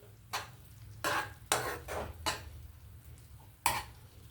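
A utensil scrapes and stirs tender tamarind leaves in a pan for chutney in several distinct strokes, with a faint sizzle underneath between them.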